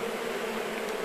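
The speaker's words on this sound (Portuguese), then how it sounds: "vamos pegando essas abelhas e colocando nos núcleos" A swarm of Apis honey bees drones in an abandoned sugar mill, a faint, steady buzzing hum that lasts about a second with no voices.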